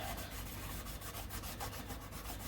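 A Scotch-Brite pad rubbed around a model airplane tire on an FMS 1300mm PA-18 Super Cub, making a close, continuous scratchy scrubbing in quick repeated strokes, with no talking.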